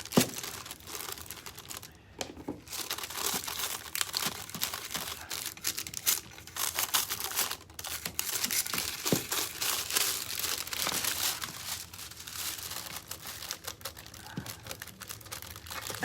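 Craft foil being handled while decorating a birdhouse, crinkling and crackling close up in a dense, nearly unbroken run of sharp rustles with a few brief lulls.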